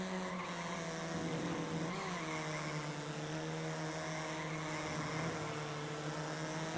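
Fiat 500 race cars in the iRacing Arcade video game drone along with a steady, high-revving engine whine that rises and dips slightly in pitch, loud and continuous throughout with no pauses.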